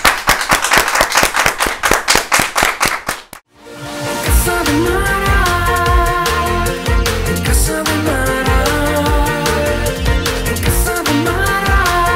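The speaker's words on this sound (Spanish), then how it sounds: "No, porque te vamos a aplaudir" A live studio audience claps in quick, even, rhythmic beats, stops abruptly, and then loud music takes over for the rest.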